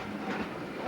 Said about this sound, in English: The train is coming over there.